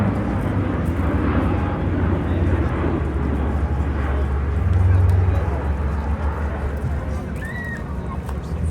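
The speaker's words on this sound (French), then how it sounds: "La 400M est en train de revenir pour une arrivée tactique désaxée à très basse altitude par le travers de la piste" An Airbus A400M flying a low-altitude tactical approach at an airshow, a loud continuous engine roar that swells around the middle, with a voice speaking throughout.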